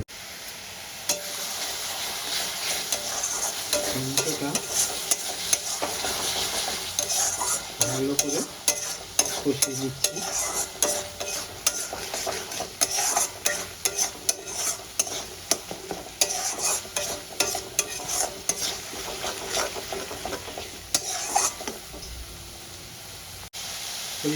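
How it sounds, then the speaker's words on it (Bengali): Tomatoes being sautéed in a pan for a Punjabi-style rajma curry, with a constant oily sizzle and frequent quick spatula scrapes and taps across the whole stretch, close-up and unbroken by speech. "দেখতে থাকি টমেটোটা ভালো করে কষিয়ে"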